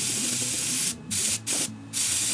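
An airbrush sprays thin gray paint onto an anglerfish fishing lure in three steady, close hissing bursts separated by short pauses.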